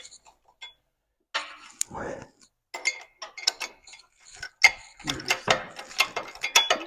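A ratchet clicks in short bursts while tightening the rear hub upright on a Spec Miata track car, sharp metallic pawl ticks close by, separated by pauses and a brief scrape; a person speaks briefly.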